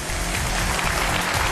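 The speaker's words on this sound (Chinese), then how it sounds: "掌声有请这一对，有请。" A studio audience applauds for a couple on a Chinese television relationship show, a dense, steady burst of clapping that fills the whole short moment, with no talking.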